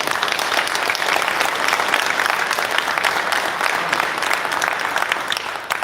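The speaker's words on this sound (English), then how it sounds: "they deserve a round of applause" A room full of people claps steadily at a community meeting on election accountability, even and sustained from start to finish with no talking over it.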